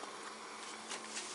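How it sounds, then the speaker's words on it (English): Bees buzz around a geothermal greenhouse, coming and going. The hum is faint and continuous, with a couple of slightly louder passes as insects fly near. "We got lots of bees coming in and out of the greenhouse, filled with pollen."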